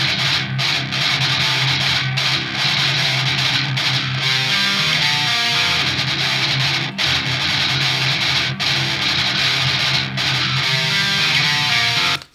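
Bass and electric guitar play together, with the guitar high-passed at 120 Hz to leave room for the bass. The dense, distorted band sound is steady and loud for the whole stretch.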